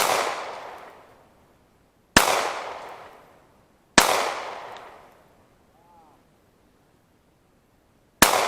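A Glock 19 pistol fires at a target 100 yards out, four sharp, loud shots spaced a couple of seconds apart, each followed by a long echo that trails away outdoors.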